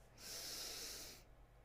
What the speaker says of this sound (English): Take 3 deep breaths with me, friends.